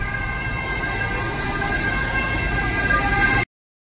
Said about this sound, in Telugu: అంబులెన్స్ సౌండ్ అనమాట.